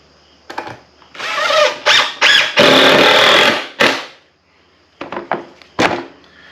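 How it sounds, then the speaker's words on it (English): A power drill drives a screw into lumber while building a firewood rack: several short bursts of whirring, then a longer sustained run as the screw seats, followed by a few brief trigger pulses, close and loud. "So we'll go ahead and put a screw in this guy."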